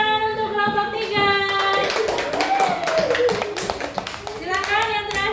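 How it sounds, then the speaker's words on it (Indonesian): Schoolchildren clap for a presenting group in a classroom, bursts of hand claps mixed with a teacher's voice and children's chatter, fairly close and loud. "Beri tepuk tangan untuk kelompok 3"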